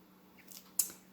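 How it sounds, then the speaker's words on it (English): Kitchen scissors trimming fresh sage leaves: a soft first snip followed by one crisp, sharp cut up close, with quiet room tone around it. "With my scissors, these are just my kitchen scissors, and that's what I do with sage."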